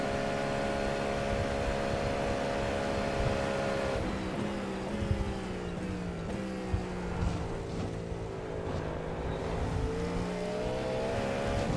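Porsche race cars in a Le Mans racing game roar past, with a loud sustained engine drone and shifting pitch sweeps as the cars speed by, steady and close with no break.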